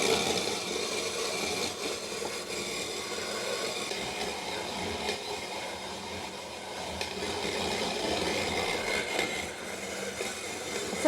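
A KitchenAid mixer fitted with an InnoMoon shaved ice attachment runs steadily while shaving ice, producing a continuous grinding, rumbling hum with a scratchy texture that stays fairly constant.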